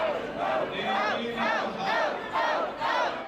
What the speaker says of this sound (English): The crowd yelling "out, out" after a heckler shouted at Carney while he was on stage.